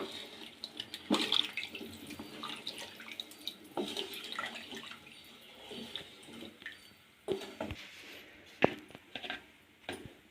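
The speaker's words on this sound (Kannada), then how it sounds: "ಎರಡು ಗ್ಲಾಸ್ ಅಕ್ಕಿಗೆ 4 ಗ್ಲಾಸ್ ನೀರು ಹಾಕಿ" Water poured into a pot of rice for soya chunk biryani, a soft running splash with intermittent clinks and knocks, fairly quiet and close, no talking.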